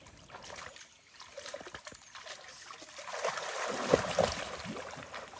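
Water sloshes and trickles in a village pond as someone takes a dip, with splashing that builds toward the end, fairly close and moderately loud.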